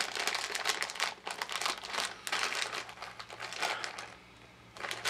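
A plastic wrapper of Sour Big Chewy Nerds candy crinkles loudly and close up as it is pulled open, in repeated rustling bursts with brief pauses between them.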